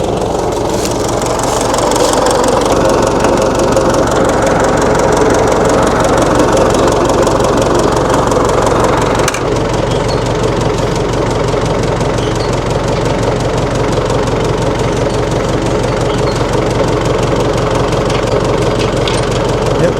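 A 1960 Massey Ferguson FE35 tractor, left sitting forgotten in a paddock, idles loudly and close with a steady low diesel chug and rattling knock, unbroken for the whole stretch.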